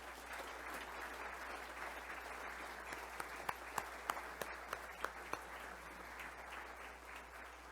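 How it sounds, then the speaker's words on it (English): An audience applauds former honorees at a Seniors Who Rock event, a soft, distant patter of many hands with a few sharper nearby claps standing out midway. "let's give them a round of applause."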